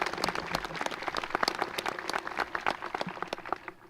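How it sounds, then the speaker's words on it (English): Audience applause at the Triad Class of 2025 graduation ceremony, sustained clapping from a crowd with distinct individual claps audible, strong at first and thinning toward the end. "Let's give the students headed out into our local workforce a round of applause."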